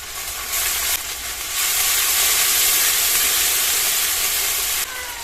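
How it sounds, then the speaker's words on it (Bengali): Ground spice paste sizzles in hot oil in a pan with fried onions and fried prawns, for a prawn and okra curry; a steady loud hiss of frying runs throughout, swelling slightly partway. "বেটে রাখা মশলা দিয়ে দেবো।"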